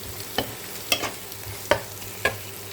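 Spice paste cooking in a pan for a snakehead fish curry, with a steady frying hiss broken by four sharp stirring scrapes at an even pace, close and fairly loud.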